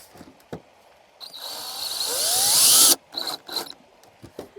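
Screws driven with a power drill into a wooden beehive bait box: a loud, rising drill whine lasting about two seconds that cuts off abruptly, followed by a few short bursts of drilling and scattered knocks.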